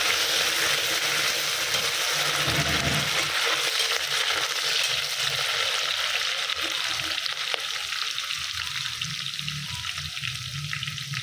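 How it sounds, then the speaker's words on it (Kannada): Onion, mint and green chilli frying together in ghee for ghee rice, a steady dense sizzle throughout with occasional stirring scrapes and clinks of a spoon against the pan. "ಈರುಳ್ಳಿ, ಪುದೀನ, ಹಸಿಮೆಣಸಿನ್ಕಾಯಿ ಈ ಮೂರು ಹಾಕ್ಕೊಂಡಿದ್ದೀನಿ ಒಟ್ಟಿಗೆ. ಇದು ಸ್ವಲ್ಪ ಬ್ರೌನಿಶ್ ಬರೋವರೆಗೂ ನಾವು ಫ್ರೈ ಮಾಡ್ಕೊಂಡಿದ್ದೀನಿ."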